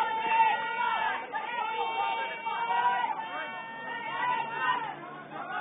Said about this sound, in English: Lots of chatter going.